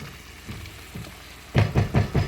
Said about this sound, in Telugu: ఉల్లిపాయ ఇట్లా వేగిందండి.